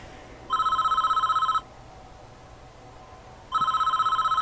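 A telephone rings twice in the Prison Architect video game, each ring a bright, trilling electronic burst about a second long, separated by a two-second pause, clear and alone.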